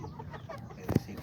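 A small rooster, a silver-toned offspring of a crested cockerel, gives a short, fairly close cluck that stands out briefly over faint background noise.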